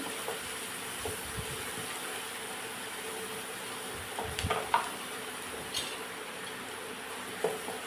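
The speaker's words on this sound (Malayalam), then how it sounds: "സവോള നന്നായിട്ട് ട്രാൻസ്പെറൻ്റ് ആയി തുടങ്ങി" Onions sautéing in a pan until transparent, a soft, continuous sizzle close by with occasional light clinks and stirring scrapes, no talking.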